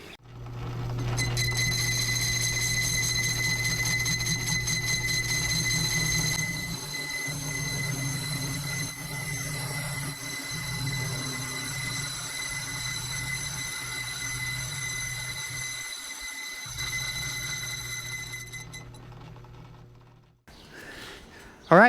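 A lathe turns a cast iron tractor brake drum, giving a steady whining machine hum with high tonal ringing that shifts as the cut changes and then stops near the end, with no voices.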